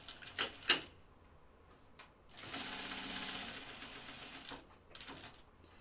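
A home sewing machine top stitches an anorak pocket, starting with a few sharp clicks, then running in a faint mechanical whirr for about two seconds before stopping with light taps.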